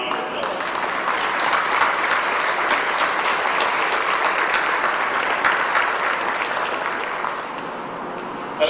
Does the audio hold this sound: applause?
yes